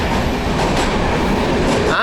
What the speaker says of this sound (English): to an Indian local train, sleeper train